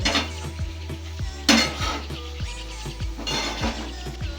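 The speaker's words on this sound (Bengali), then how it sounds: "নাড়াচাড়া করে চিনিটাকে শাকের সাথে মিশিয়ে নেব" A spatula scrapes and clatters rhythmically in a pan of cooking greens with prawns and sugar, with steady metallic knocks and a soft sizzle underneath.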